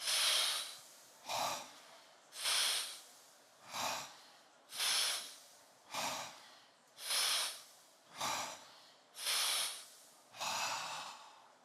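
Deep, slow breathing during a guided breathing exercise, ten or so long breaths in a steady rhythm, close and clear with short pauses between them and no talking.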